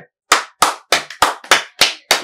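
A short burst of hand clapping at a political satire performance, seven sharp evenly spaced claps, close and loud, with no talk.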